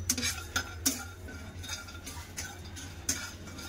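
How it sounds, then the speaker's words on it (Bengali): Dry red chillies and fennel seeds toasting in a pan, stirred with a spoon that scrapes and clicks against the metal in a few sharp taps over a soft, steady background, with no talking. "2টো শুকনো লঙ্কা আর নিয়েছি মৌরি। তো এগুলো একটু টোস্ট করবো, ভেজে নেবো একটুখানি।"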